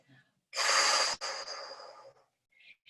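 A Pilates instructor's long, forceful breath out through the mouth comes in two close, loud pushes. It is preceded by a short faint breath and followed by a soft one.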